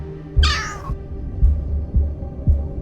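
A summoned cat in the game Solo Leveling Arise lets out a single clear, fairly loud meow. Soft, low rhythmic thumps in the background continue before and after it.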